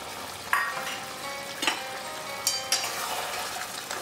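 Mutton masala with cashew paste frying in a pot, a soft continuous sizzle broken by a few sharp scrapes and clinks of a stirring spoon, close and fairly quiet, with no talking.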